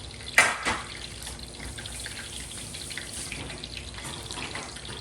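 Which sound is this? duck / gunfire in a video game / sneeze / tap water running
tap water running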